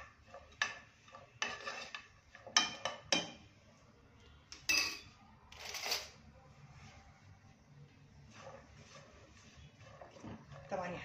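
A spoon stirring tomatoes in a pan, cooked without oil for a cheap diet meal, gives scattered scraping and clinking bursts, fairly faint, while someone talks.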